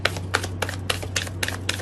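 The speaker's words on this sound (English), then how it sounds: "You see how much I shuffle" Tarot cards being shuffled by hand: a string of about eight crisp papery bursts in a fairly even rhythm, close and fairly quiet over a steady low hum, with no talking.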